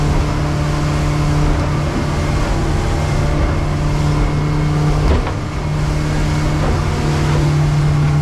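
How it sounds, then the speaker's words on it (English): An outboard motor drives a boat across the ocean at about 22 knots, a loud, steady drone with a strong low hum that fills the whole stretch, with wind and water rush, close up and without talk. "That's how loud the motor is."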